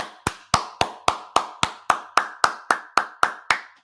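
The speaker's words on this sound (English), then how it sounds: "Let's give Josh Ball a round of applause" A single pair of hands claps about thirteen times in an even, quick rhythm, each clap sharp, close and loud with a short decay, and no talking alongside.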